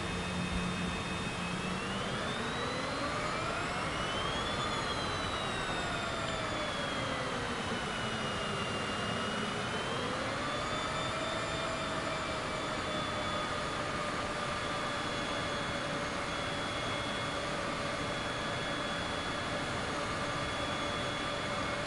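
Jet engines hum steadily in Microsoft Flight Simulator 2024 as an airliner taxis, a loud continuous whine with tones sliding up and down as thrust shifts, no talking over it.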